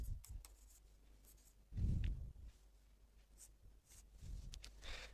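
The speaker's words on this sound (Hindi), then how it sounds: "ठीक है, तो यहाँ पे लिख दे रहा हूँ" Chalk or marker writing on a classroom board during a Class 12 physics lesson, heard as scattered short scratchy strokes with a couple of louder rubbing bursts, close and fairly quiet, with no talk.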